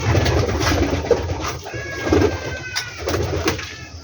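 Pigeons flocking down to feed coo in a low, steady murmur, with several birds close by and soft bursts of fluttering and rustling throughout.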